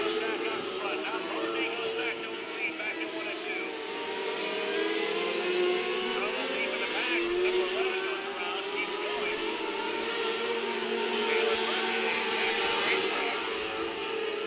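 HART NW micro sprint race cars racing at US 24 Speedway, a dense, continuous whine of several engines at steady high revs, heard from a distance with a commentator talking over it.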